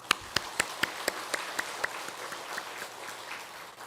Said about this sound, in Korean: 우리 박수 한번 하십시다